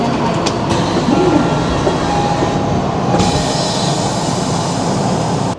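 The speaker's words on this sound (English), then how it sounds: "Hopping on the train here." A Tokyo Ginza line subway train carries riders along, with a loud, steady rumble of rolling wheels and car noise, faint wheel squeals and high tones on top, and no talking.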